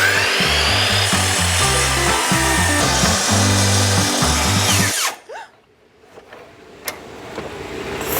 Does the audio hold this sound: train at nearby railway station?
no